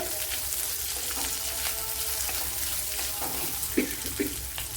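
Chopped onion fries in a pan with a steady, close sizzle and occasional faint stirring scrapes, while mango goes in for a dried shrimp thoran.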